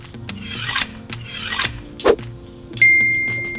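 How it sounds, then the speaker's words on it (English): A knife cuts polymer clay into blocks in rough, rasping strokes, two longer scraping passes followed by a sharp tap and a short ringing tone, close and alone. "I'm gonna cut these up into little blocks."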